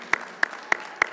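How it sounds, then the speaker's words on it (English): Sparse, separate hand claps for Grace Hill staff at a merger announcement, four sharp claps evenly spaced, close and distinct with quiet between them. "raise your hands in the back so that we can give you a big round of applause and thanks"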